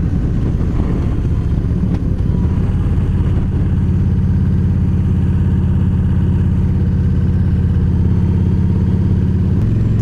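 A motorcycle parked at the roadside idles steadily, its low, even engine drone sounding close and loud. There is a rougher start, then a constant hum for the rest, with no talking.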